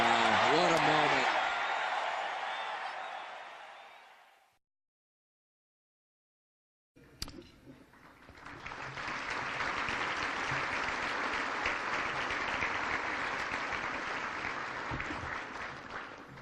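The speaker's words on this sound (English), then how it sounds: "Listen to this crowd as Jack Hoffman just scored a touchdown" Crowd at the Team Jack gala erupts in loud, sustained cheering and applause for Jack Hoffman's touchdown, fading out, then after a brief silence a second swell of dense clapping and crowd noise rises and holds steady.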